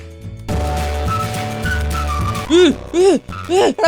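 A car revving and skidding in the driving video game Drive Beyond Horizons, engine tone rising and falling with a few short squealing slides near the end.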